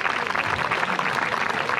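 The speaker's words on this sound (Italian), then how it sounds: "Vi chiederei un applauso" An audience applauds at an Italian charity concert held with UNICEF, giving a dense, steady wash of clapping that fills the short moment without a break.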